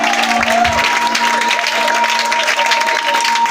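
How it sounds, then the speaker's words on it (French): A church congregation applauding and cheering at a worship service, a dense, loud, continuous wash of clapping and crowd noise with sustained tones running underneath throughout. "Est-ce que tu peux l'acclamer puissamment?"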